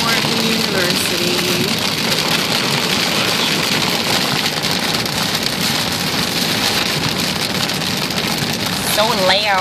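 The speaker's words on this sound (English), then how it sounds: "And it's raining again." Rain falls steadily on a moving car, a dense continuous hiss with a faint engine hum beneath and occasional voices.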